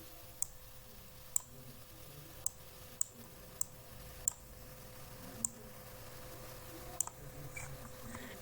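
Sharp computer mouse clicks while working in CorelDRAW, eight or so isolated taps spaced irregularly over a quiet background with a faint steady hum.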